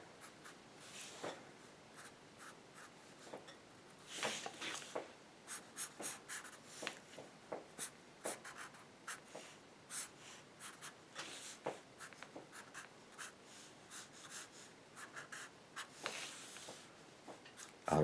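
A pencil scratches across paper while drawing a cartoon animal, with quiet, close strokes and short scribbling bursts that start and stop in an irregular rhythm over the whole span and no voices.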